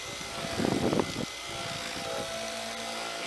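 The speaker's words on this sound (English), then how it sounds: "Again, this is the buffer, not the sander." A rotary buffer polishes oxidized paint, giving a continuous whirring motor drone with a brief louder rough burst early on as the pad presses down.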